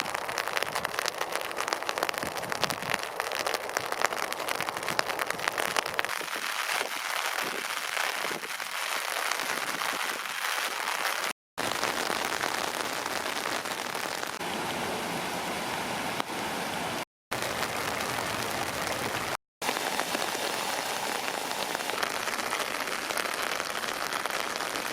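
Steady rain falls outdoors where owls perch exposed, a dense continuous hiss of drops on surfaces that holds at an even level throughout, with a few brief dropouts and no voices.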